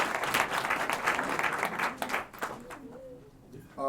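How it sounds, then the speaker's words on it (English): Audience applause at a heritage awards ceremony, dense clapping that thins out and fades toward the end, with a voice briefly audible near the close. "Let's give them another big round of applause."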